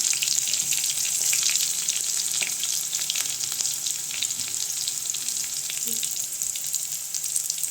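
Garlic chicken frying in hot oil in a pan: a steady, close sizzle with fine crackling and occasional stirring scrapes, continuous throughout with no talk.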